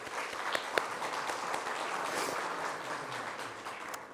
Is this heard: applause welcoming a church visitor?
yes